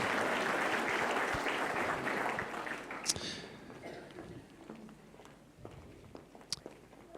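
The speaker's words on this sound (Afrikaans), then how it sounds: "Kom ons gee lekker aan het klap." A church congregation claps together in warm applause, loud at first and then thinning into scattered claps, footsteps and faint movement as it dies down.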